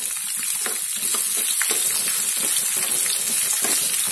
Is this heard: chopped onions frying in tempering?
yes